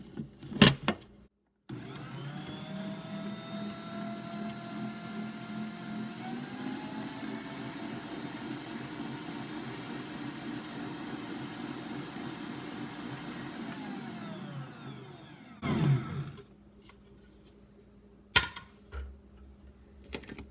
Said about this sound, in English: we're going to mix those ingredients up